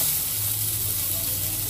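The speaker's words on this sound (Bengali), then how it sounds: "পেঁয়াজটা দিয়ে দিলাম।" Chopped onion sizzles in a dry pan with no oil, a short, steady hiss at moderate volume with no talk over it.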